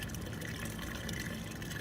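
Steady water rushing through an RV black-water sewer hose during a flush, a continuous dense broadband wash without pauses.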